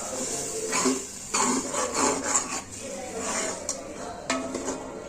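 Masala for chicken gravy is sautéed and stirred in a pan, giving scraping, rubbing strokes of a spoon against metal with a soft sizzle beneath, in uneven repeated passes at close range.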